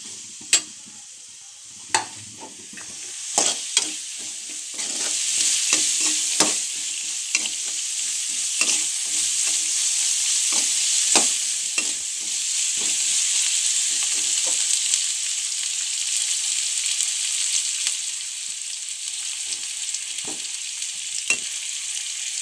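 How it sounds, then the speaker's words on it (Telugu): Green chillies sizzle steadily in a hot pan of oil for an okra curry, with sharp intermittent scrapes and knocks of a spoon stirring them close by. "పచ్చిమిరపకాయలు ఇవి వేసుకోవాలి. మంచిగా ఫ్రై కానిద్దాం."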